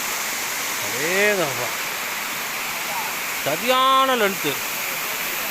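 Kuttupatti waterfall pours in a steady broad rush of falling water, continuous and fairly close, while someone speaks twice over it.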